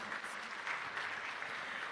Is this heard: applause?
yes